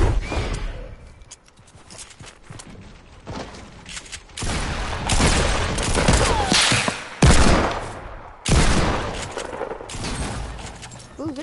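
Video game gunfire in a Fortnite-style battle, with rapid bursts of shots in dense, loud clusters, some booms and pauses between volleys, and a voice speaking briefly among the shooting.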